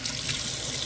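Running water from a kitchen tap, a steady close hiss and splash of the stream as a hand is wetted, continuous for the whole brief moment.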